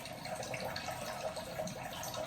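Water pours steadily into a pot for a vegetable gumbo, a soft continuous trickling splash close by with no talking.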